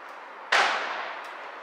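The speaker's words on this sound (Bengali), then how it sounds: "বাট আজকে কিন্তু শব্দবাজি" A single sharp firecracker blast on Kali Puja night during Diwali celebrations, a sudden loud crack followed by a decaying rumble and a fainter pop about a second later.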